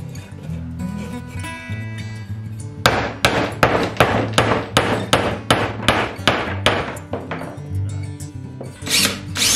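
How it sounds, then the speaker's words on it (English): Repeated hammer blows drive a nail into a birdhouse made from a license plate, a run of about a dozen sharp, evenly paced metallic strikes, close and loud, with no talking. "Then we can sink that nail in there. We'll just start it here first."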